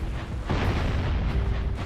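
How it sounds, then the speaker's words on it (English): Cannon shots and explosions booming in the Jak & Daxter video game, a loud, continuous low rumble with blasts in quick succession and no voices. "Okay, the cannon is firing at me."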